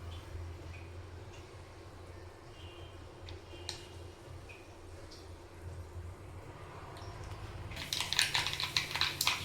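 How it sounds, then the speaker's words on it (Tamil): Mustard seeds spluttering in hot oil, beginning as sparse faint pops and building into a dense burst of crackling near the end. "கடுகு நல்லா பொரிய ஆரம்பிச்சிடுச்சு."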